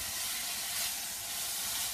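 Lamb browning in a casserole sizzles steadily, a close, continuous bright hiss of frying fat with no talking.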